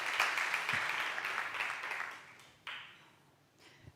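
An audience at the Accessible Europe ICT 4 ALL conference applauds to welcome a speaker, a dense wash of clapping that fades, then swells briefly again before tapering off.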